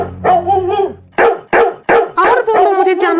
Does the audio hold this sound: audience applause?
no